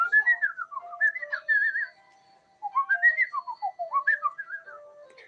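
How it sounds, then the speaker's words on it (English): A person whistles a wandering tune alone, two melodic phrases with a short pause between them, clear and close. "Yes, I'm a lot of the time whistling."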